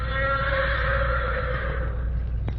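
A black horse sends back an answering whinny, a sustained neigh lasting a couple of seconds that sounds steady and slightly distant, with a brief knock near its end.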